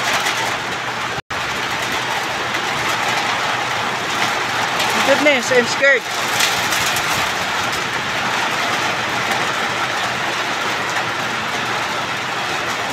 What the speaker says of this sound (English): So heavy the rain.